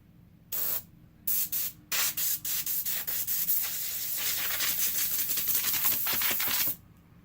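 An airbrush gives short hissing bursts of spray that start and stop, then a steady airy hiss of pulsing spray before cutting off.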